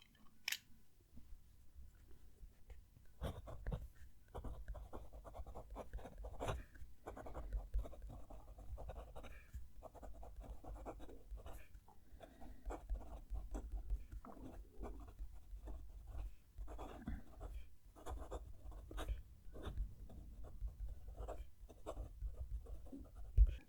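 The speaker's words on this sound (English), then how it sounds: "move the mic down to the page so you can hopefully hear the pen writing" A Jinhao 9013 fountain pen scratches across paper with the mic held right at the page, giving a quiet, steady stream of close, gritty stroke sounds with small pauses between words.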